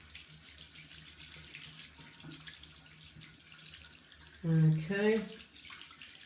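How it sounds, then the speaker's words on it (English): Tap water runs quietly into a sink while waiting for it to warm, a faint steady flow under room tone, briefly covered by a person speaking near the end. "So I'm just waiting for the water to get warm now"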